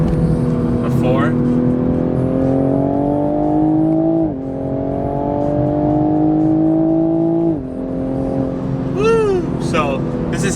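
A new Toyota Supra with its stock downpipe accelerates hard on a freeway in sports mode, heard from inside the cabin with the windows up. The engine drone climbs steadily through two quick gear shifts and stays loud and close throughout.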